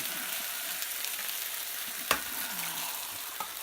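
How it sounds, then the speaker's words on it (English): Eggs frying in a pan alongside potatoes for a breakfast burrito, a constant close sizzle broken by a sharp tap and a few soft scrapes; no voices. "crack your eggs in the pan"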